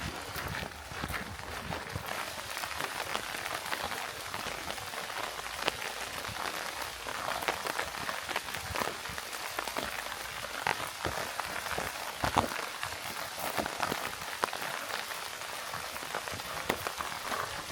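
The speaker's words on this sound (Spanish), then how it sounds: "Está cayendo una lluvia fina" A light rain patters steadily all around in the Ring of Kerry area of southern Ireland, with dense small drops ticking on surfaces and no voices.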